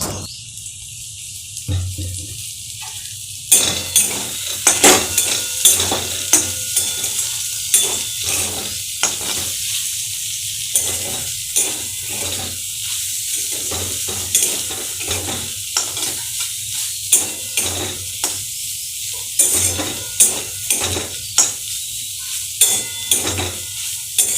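Soybean chunks fry in mustard oil in a pan, with a steady sizzle broken by repeated scraping and clanking stirs throughout, close and fairly loud.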